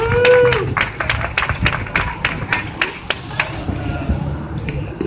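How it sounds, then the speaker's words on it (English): An audience claps for a speaker at a Filipino American community event, scattered individual claps forming a moderate round of applause, with some background voices and a brief electronic tone at the start. "Please give a round of applause for her"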